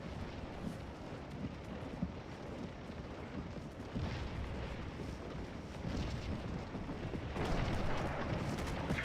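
Artillery fire in a Battle of Gettysburg video game: a steady rumbling barrage of booms and crackling shots that grows louder toward the end, with no voices over it.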